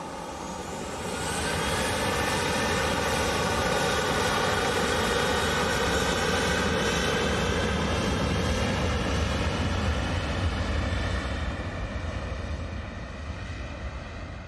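A Ryanair jet airliner takes off from Manchester Airport, its engine roar swelling quickly to a loud, sustained rumble with a high whine that slowly recedes, no voices.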